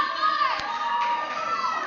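A crowd cheers and shouts loudly at a buhurt longsword fight, a continuous roar of yelling voices with no pauses.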